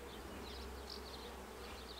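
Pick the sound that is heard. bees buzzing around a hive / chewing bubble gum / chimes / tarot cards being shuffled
bees buzzing around a hive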